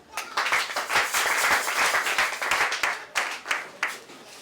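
A church congregation breaks into applause and cheering for God at a French-speaking Congolese worship service, a dense, sustained wash of many hands clapping close by, swelling and fading in waves for several seconds.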